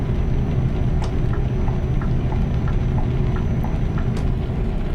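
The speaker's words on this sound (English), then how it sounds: "I say the rain is not as bad" Steady rain in Euro Truck Simulator 2, a dense continuous hiss with scattered drops tapping on the truck, loud and close, with no talking.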